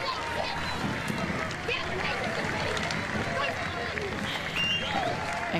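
Sustained crowd applause and cheering at the Henley regatta finish line as rowing crews cross, a steady wash of clapping with voices and a commentator talking through it.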